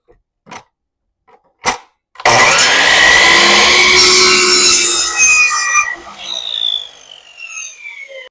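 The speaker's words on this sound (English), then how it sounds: "I'm going to be using this miter saw to make all of my cuts today" A miter saw cuts a 45-degree miter through a baseboard laid flat against the fence: a few light clicks, then a loud sustained whining bite through the wood for about three and a half seconds, trailing off as the blade spins down.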